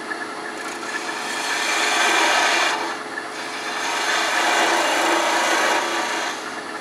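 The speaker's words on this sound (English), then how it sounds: "I'm using a half an inch spindle gouge." A half-inch spindle gouge cuts a wooden screwdriver handle spinning on a lathe, giving a steady, loud scraping rasp that swells and eases in two long passes.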